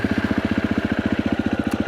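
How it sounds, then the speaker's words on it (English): A motorcycle engine runs with a fast, even pulsing thump throughout, close and moderately loud, with no talk over it. "Let's start the bike up."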